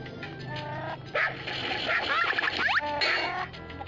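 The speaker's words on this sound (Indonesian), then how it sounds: "Coba kita gonggong deh." A Dalmatian puppy barks in the PlayStation game 102 Dalmatians: Puppies to the Rescue, a few high, yappy synthesized barks over game background sound.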